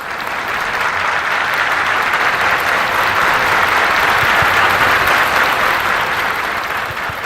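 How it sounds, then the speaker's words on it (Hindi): Thunderous applause from a large audience greeting Swami Vivekananda's opening words, a dense, steady roar of clapping that stays loud and even throughout, with no voices above it. "तुरंत बाद तालियों की गड़गड़ाहट"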